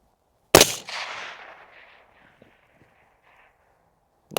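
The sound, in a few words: rifle shots firing 73 grain Berger ammo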